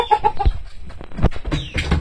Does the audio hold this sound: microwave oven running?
no